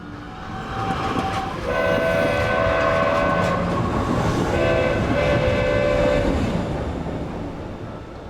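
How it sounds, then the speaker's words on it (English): A train ride beginning, with the steady rumble of a moving railcar and long sustained horn or whistle tones sounding twice over the continuous rolling noise. "got on their first train"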